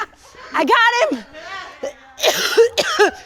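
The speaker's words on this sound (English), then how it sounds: "I've never coughed in an interview in my entire career." A person coughs harshly a few times in quick bursts, with raspy throat-clearing sounds in between, close and loud.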